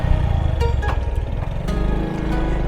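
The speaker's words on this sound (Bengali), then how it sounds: "আশরাফুল ভাইয়ের বাইক চেপে এখন যাই" Motorbike engine running steadily on a road ride between Rajshahi and Natore in Bangladesh, a continuous close drone with no speech.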